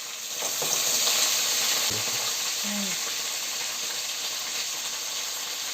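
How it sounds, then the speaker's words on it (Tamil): Crab pieces go into a sizzling pan of well-roasted onions and curry leaves for crab gravy, producing a steady close frying hiss with a few clinks and scrapes from stirring. "இப்போது இந்த மாதிரி நல்லா ரோஸ்ட் ஆன பிறகு நம்ம டைரெக்டாக நண்டை சேர்த்துடலாம்."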